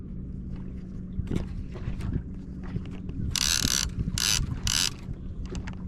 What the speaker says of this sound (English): I'll set the ratchet. It needs to be a bit looser.